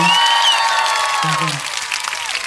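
A studio audience on a family-planning talk show gives a short round of applause, the clapping thin beneath loud overlapping voices and tonal vocal sounds that dominate the first half before trailing off.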